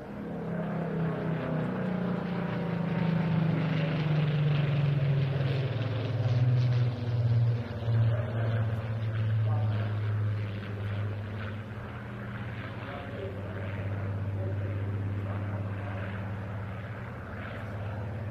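A Spitfire makes its final display pass at a seaside air festival, its propeller engine droning loud and steady throughout, with the pitch shifting and swelling as the fighter sweeps past.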